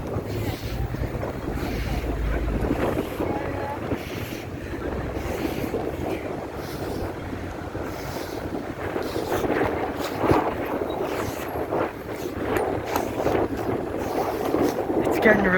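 Wind buffets a microphone outdoors on a cold, windy night, a steady low rumble with gusty swells that runs the whole time, with a person's voice faintly under it.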